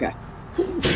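A single sharp sneeze bursts out near the end of a short stretch of speech, loud and close, following brief talk.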